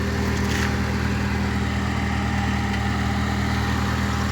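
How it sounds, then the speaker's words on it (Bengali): A car engine idles steadily in a school parking area. The low hum is loud and even, with a constant mechanical drone and no clear revving across the whole stretch. "স্কুল থেকে এখন পার্কিং দিতেছে।"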